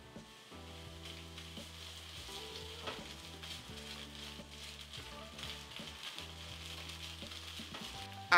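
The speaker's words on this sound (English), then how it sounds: "Saute them for about 30 seconds to release their aromas" Garlic, ginger and a spoonful of tomato paste sauté in a pot for lentil soup, giving a steady sizzle with occasional stirring scrapes and a background drone of music throughout.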